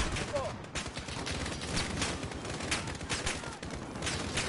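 Rapid bursts of gunfire from the Modern Warfare video game rattle through a dense, busy mix, with shots stacking into a fusillade at moderate loudness.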